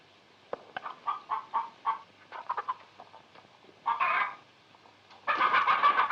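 Farm chickens clucking in a busy run of short, choppy bursts that swell into louder squawking clusters, close and clear over a quiet background.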